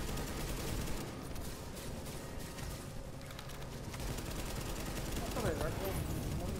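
Dense gunfire from a shooter video game set in a power plant, sustained and loud throughout, with overlapping bursts and impacts in a busy mix.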